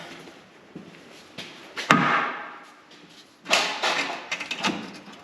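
A few sharp metallic knocks and thuds ring out at irregular intervals, close by, as a hammer taps on a 1979 Corvette transmission during removal, with a busy stretch of clanking near the end.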